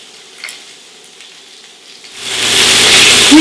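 Lamb chops hit a hot pan and break into a loud, steady sizzle and crackle of frying meat, after a quiet start with faint kitchen sounds.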